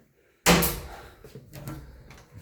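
A door in a house opening onto a small storage room beside a water meter and stairs: a sudden loud thud and rattle after silence, then fading clatter and creaks, close by with no talking.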